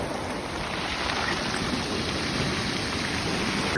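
Steady rain falls as a constant broadband hiss, dense and unbroken throughout, with no talking.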